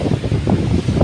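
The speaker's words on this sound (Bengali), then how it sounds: "সুন্দর হাওয়া চারপাশে" Wind blows steadily across the seashore beside a rough sea, a low, gusty rumble buffeting the microphone in uneven pulses with no voices.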